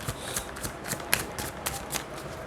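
Tarot cards being shuffled close by, giving a soft, repeated riffling and flicking at a steady pace with low background noise.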